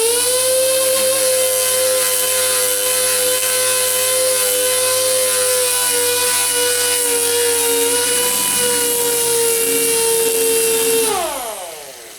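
A loud, steady mechanical whir from a dual-action sander working on Lord Fusor 142 body filler on a Ford Flex bumper cover, running continuously before spinning down at the end.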